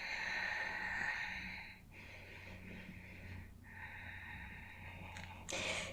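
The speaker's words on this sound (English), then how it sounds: "A couple more deep breaths here." Slow, deep breaths drawn in and let out through the nose during a yoga pose, close and soft, in a quiet room with no talking.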